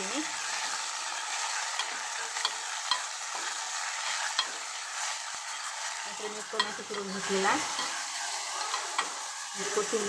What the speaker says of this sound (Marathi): परतून झालेला आहे यामध्ये टाकून घेते मी पात पण आहे यामध्ये